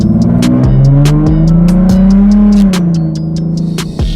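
Straight-piped, catless Nissan 370z roaring loudly from inside the cabin while driving, engine pitch rising and falling through steady revs with a deep drone and occasional sharp crackles.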